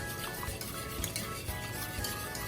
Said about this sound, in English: Whisk together. Continue to whisk.